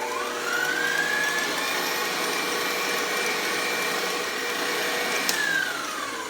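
Electric stand mixer with a paddle beating sweet potato pie filling, a steady whirring motor drone with a rising whine near the start and a brief change in pitch toward the end.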